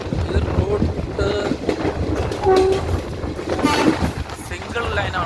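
A passenger train runs along a single-line rail route toward Ernakulam, its steady rumble and clatter continuous and fairly close, with a brief horn tone rising partway through and a voice speaking over the noise.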